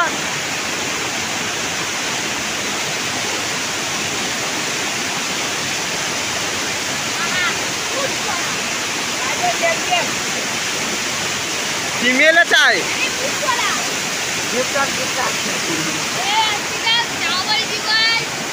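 A waterfall roars steadily and loudly up close as a broad, constant rush, while someone talks briefly over it near the middle.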